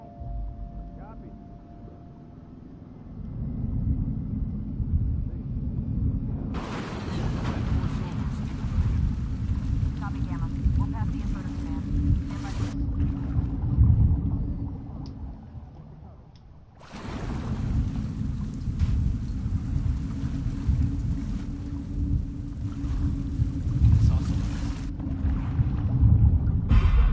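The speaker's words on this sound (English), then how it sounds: "Steal this boat. Got the engine back up." Boat engine running in the video game The Last of Us Part 2, a continuous low rumbling drone beneath heavy rain and storm noise, with game voices talking over it.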